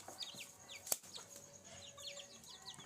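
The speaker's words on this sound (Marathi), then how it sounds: "हे आपल्या होममेड इन्क्युबेटरद्वारे आपण तयार केलेले गावरान पक्षी आहेत" Native country chickens, a small flock of free-range desi birds, cluck and peep in soft, scattered calls, with one sharp, brief noise near the start, all fairly faint with no talking.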